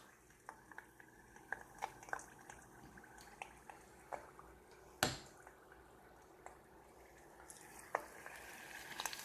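Batter-coated shrimp slipped into hot frying oil for French fried shrimp, with a soft continuous sizzle and bubbling under scattered small pops and drips and one sharp louder splash midway.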